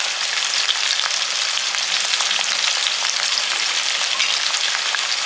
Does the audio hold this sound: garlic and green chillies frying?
yes